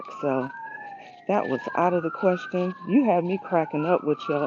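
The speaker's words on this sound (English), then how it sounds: "sorry about the sirens" Wailing sirens sweep up and down continuously in the background while a person talks over them.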